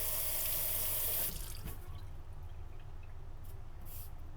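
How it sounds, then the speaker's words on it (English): A kitchen water tap, used to wet a waterstone while sharpening, runs in a loud steady hiss, then cuts off abruptly after about a second, leaving faint drips and quiet room tone. "Let me just turn the water on for a second."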